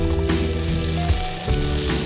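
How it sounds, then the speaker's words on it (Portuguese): Vegetables sauté in a frying pan, seasoned with salt and black pepper, giving a loud, continuous sizzle with occasional stirring scrapes and no talking. "Em uma frigideira, vou saltear todos os legumes."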